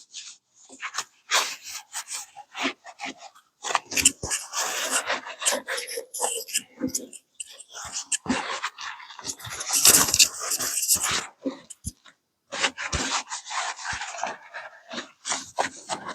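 Cloth rag wiping and rubbing across the cast surfaces of Chevy 454 big-block cylinder heads being cleaned before installation, a close series of uneven scrubbing and scraping strokes with short pauses between them.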